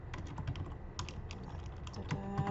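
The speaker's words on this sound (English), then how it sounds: "I'm going to click to write the question text and type" Someone types on a computer keyboard, a close run of quick, light key clicks in an uneven rhythm with no talking.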